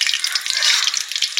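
Eggs coated in salt and turmeric fry in hot oil with a close, bright sizzle and crackle that pops continuously with small irregular bursts, no voices over it.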